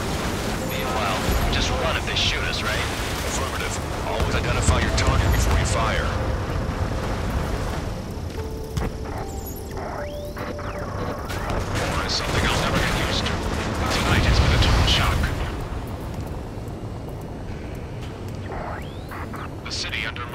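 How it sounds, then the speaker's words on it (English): Dense bursts of gunfire and booming explosions roll continuously for twenty seconds, swelling loud twice, with a steady roar of jets underneath and voices talking over the chaos, echoing through city streets in Ace Combat 7: Skies Unknown. "Gunfire and the roar of jets echoing through the streets."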